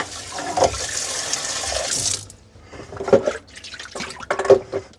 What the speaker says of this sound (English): You're going to want to rinse these out to prevent odor.